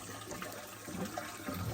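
Water runs steadily into a 10,000-gallon gravity-flow rainwater tank, a soft continuous rush and trickle heard from nearby, fairly quiet and with no talk over it.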